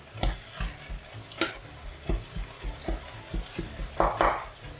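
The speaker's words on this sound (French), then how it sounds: "Je mélange bien." A spoon stirs a meat stuffing with parsley, garlic and onion for stuffed peppers, making a series of soft close scrapes and knocks in an uneven rhythm against the bowl.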